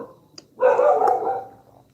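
A dog barks in a residential street at night, one short sharp bark followed by a louder, drawn-out volley of barking that fades out, heard at moderate distance with no talk.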